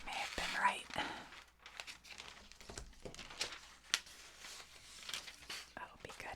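Dull scissors work through wrapping paper with crinkling, rasping cuts and rustles, close and quiet, while a voice whispers intermittently.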